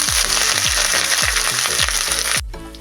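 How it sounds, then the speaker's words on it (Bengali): Bay leaves, whole chillies and ginger sizzle loudly in hot oil for a Bengali curry, with a steady frying hiss and repeated stirring or scraping strokes, then the sizzle drops off at the end. "দিয়ে দিচ্ছি তেজপাতা আর গোটা লঙ্কা, আর দিয়ে দেবো আদা"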